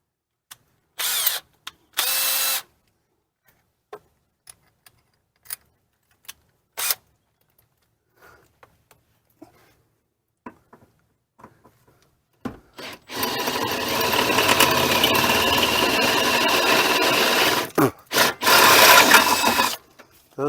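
A power drill with a 3/8 bit bores a hole for an RV jack stabilizer, starting with short bursts of whirring and then settling into a long, loud, steady grind near the end.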